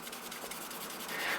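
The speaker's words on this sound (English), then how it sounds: "we're going to sand it" Sandpaper rasps across a rusty part from a 1930s NuTone chime, a steady scratchy rubbing held up close, level and continuous for the short stretch, with no talk.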